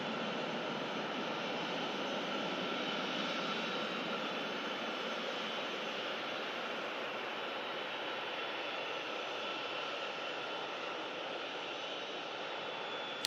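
Jet airliner taxiing at Manchester Airport, its engines giving a steady, loud broadband roar that holds even and unbroken throughout, with no talk over it.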